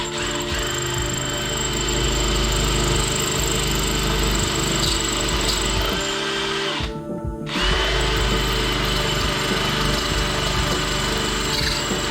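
A power drill whines steadily as it bores out a hole in a brass rod to about 6.5 mm, running continuously with a brief pause in the middle before starting up again.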